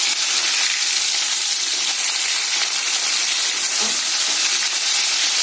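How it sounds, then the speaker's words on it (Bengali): Pieces of live rohu fish fry lightly in hot oil in a pan, producing a loud, steady, bright sizzle and hiss that carries on without a break, close up and with no talking. "আর মাছটা বেশি ভাজবো না, যেহেতু জ্যান্ত মাছ তো, হালকা করে মাছটা ভেজে দেবো।"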